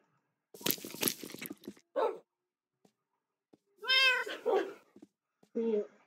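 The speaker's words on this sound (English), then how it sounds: "I'm gonna spawn one cat" A cat meows inside a video game, giving a few short harmonic cries in the second half that stand out after some earlier clattering game noise.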